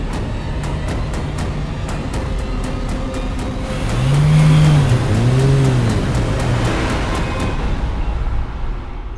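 A car drives off, its engine steadily revving and swelling to a louder rising whine around the middle of the clip before settling back, heard close without voices.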